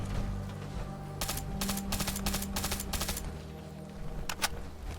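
Bursts of automatic gunfire from a companion in Fallout 4, several rapid rattling volleys in quick succession followed by a couple of shorter bursts, fairly loud over a low game background hum.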